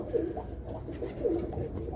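Birmingham Roller pigeons coo softly in low, repeated rolling calls, a few close murmurs over a steady background hum with no speech.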